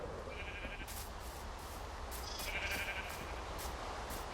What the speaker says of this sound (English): And a sheep farm over here.